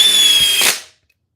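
Impact driver driving a screw, a loud continuous whirring drive with a brief burst of impacting near the end before it stops abruptly, leaving silence.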